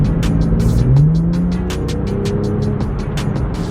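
A salvage BMW M2 accelerates hard, its engine note climbing loudly and steadily over road and tyre noise, heard from close up without talk.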